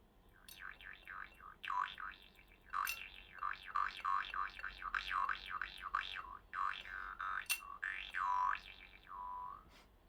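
A vargan, or jaw harp, is played at high pitch, twanging in quick rhythmic boings with rising and falling vowel-like wah tones, fairly close and clear with short pauses between phrases.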